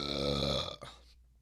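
One loud, drawn-out burp close to the microphone, buzzy and resonant, ending in a brief trailing gurgle.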